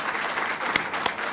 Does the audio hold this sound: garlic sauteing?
no